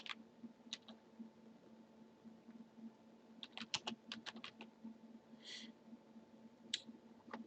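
Computer keyboard typing text in CATIA software, a quick run of close, crisp key clicks over a faint electrical hum, with a few scattered single clicks before and after.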